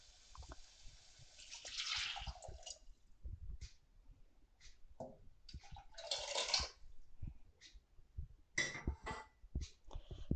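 Lentil and tamarind water is poured and sloshes into a pan for rasam, with splashing and a wet gurgle, then scattered stirring and clinking sounds.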